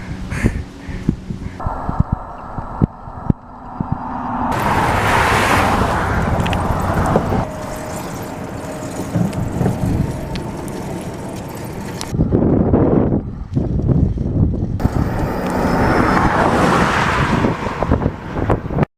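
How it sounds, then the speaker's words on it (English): Strong wind buffets an outdoor rest stop on a Wisconsin cycle tour, roaring loud and close in long gusts with brief lulls between, rumbling heavily as it batters the microphone; no voices. "the wind's still going"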